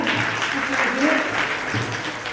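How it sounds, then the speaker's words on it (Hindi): An audience at a Jain religious stage play applauds loudly and continuously in a short burst, with a voice speaking over the clapping. "एक बार जोरदार ताली बजा दीजिए जरा।"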